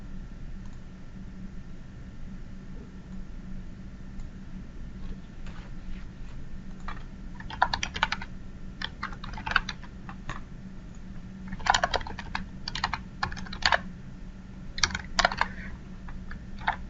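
Keys clatter on a computer keyboard during a software demonstration, in irregular bursts of close, light clicks over a low, steady background hum.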